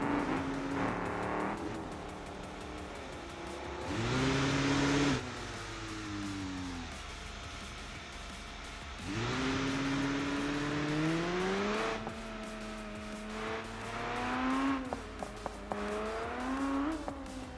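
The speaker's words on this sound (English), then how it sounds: "Sounds like that was the V10 in that bolide." V10 engine of a race car in the BeamNG driving game revving repeatedly, loud surging bursts climbing and falling in pitch between quieter idling stretches, with no talk.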